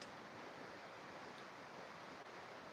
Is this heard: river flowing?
yes